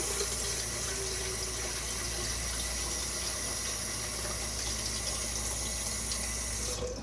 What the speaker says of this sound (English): you're gonna take a pot, put some water in it